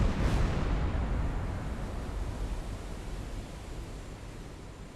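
A torpedo explodes in the naval submarine game Silent Hunter 3, a loud broadband blast that hits at once and then rolls off into a long, slowly fading rumble with no voices.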